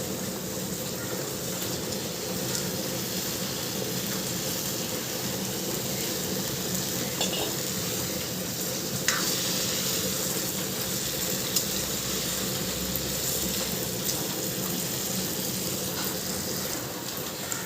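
Red amaranth leaves with mustard sizzling in a pan, a continuous soft frying hiss with occasional faint clicks and stirring noises, steady throughout with no talking.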